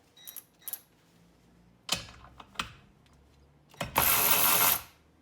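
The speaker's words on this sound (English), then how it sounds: "Tightening it up here with the Aoben." An Aoben cordless ratchet tightens a bolt with a few short mechanical clicks and clacks, then a loud, close motor whir that runs for about a second and stops.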